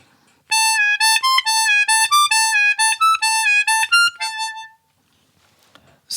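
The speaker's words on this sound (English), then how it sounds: "It's something that Jason Ritchie calls drone phrases in one of his instructional videos here on YouTube" A diatonic harmonica plays a drone phrase: a quick run of bright, reedy notes repeatedly returning to one fixed motif, close and clear, then a softer fading final note and silence.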